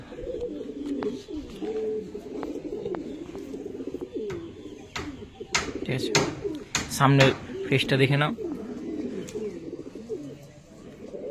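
Pigeons in a loft coo softly and continuously at close range, with handling rustles and wing flutter as a bird is held, under someone talking.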